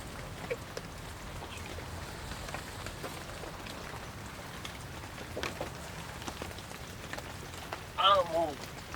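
Steady rain patters on a surface outdoors at a camper van conversion site in Japan, a constant hiss with scattered drops and brief bumps, while a voice talks softly underneath.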